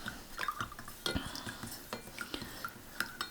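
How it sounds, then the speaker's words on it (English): Aida cross-stitch fabric being stirred in a pot of RIT dye: light clinks of a utensil against the pot and gentle liquid sloshing come in quick, uneven taps, quiet and close. "Give it a stir. Stir that around."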